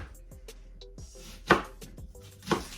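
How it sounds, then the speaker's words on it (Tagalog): A knife chops ginger and onion on a board: sharp, close knocks in an uneven rhythm, with two louder strikes near the end. "hihiwa tayo ng ginger"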